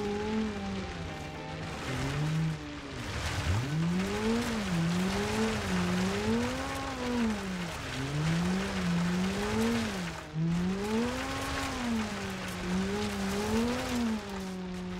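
BeamNG.Drive rally car with very tall ride height and wide tires pounding over a bumpy stage, engine note rising and falling steadily as it bounces, with continuous road and suspension rumble and no talk.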